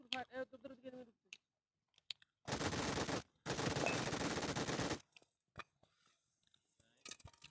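Bursts of rapid automatic gunfire in PUBG on the Erangel map, two dense loud volleys of about a second each, between short clicks and brief bits of player talk.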